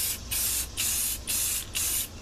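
Four short, close hissing bursts from an aerosol can spraying clear coat onto headlights, each burst about half a second long with brief pauses between them.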